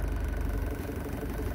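An Isuzu 4JX1 diesel engine runs with its exhaust brake engaged, giving a steady, rumbling low drone with a slight vibrating texture that holds even throughout.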